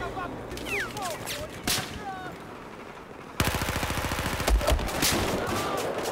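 Gunfire in a Battlefield 4 multiplayer match: a quieter stretch of scattered shots and game effects gives way to a loud, rapid automatic burst with heavy impacts in the second half, under a busy battlefield ambience.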